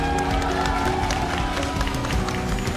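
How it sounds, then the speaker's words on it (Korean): Audience clapping at a PUBG esports award ceremony for a champion team, dense and sustained applause from a crowd in a hall, with an announcer's voice running over it. "옆에서 피오 선수에게 박수 한번 다시 주세요."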